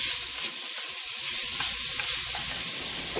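Onions frying in a pan, a loud continuous sizzle and hiss with faint crackles, steady and close for a few seconds.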